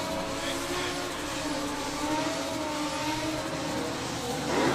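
Drift cars at a British Drift Championship round at Buxton, a 480-horsepower 1JZ against a 700-horsepower 2JZ in identical chassis, roar steadily at moderate distance as one continuous engine drone, with possible faint commentary beneath.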